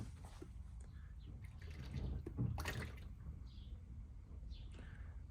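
Quiet used motor oil from a Ford E350 pouring and gurgling into a container, a soft trickle that swells briefly midway over low background rumble.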